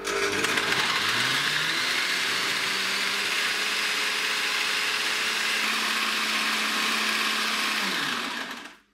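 A meat grinder works through herring and cheese for pâté, a loud continuous whirring motor drone with a slowly shifting pitch that runs steadily and then winds down at the end.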